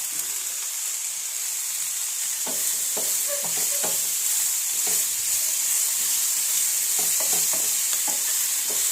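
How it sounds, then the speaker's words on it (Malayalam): Chopped ivy gourd sizzles in a hot pan with a steady frying hiss, while intermittent scraping stir strokes clatter up close. "കോവയ്ക്ക് അരിഞ്ഞ് വച്ചേക്കുന്നത് ഇട്ട് കൊടുക്കുക"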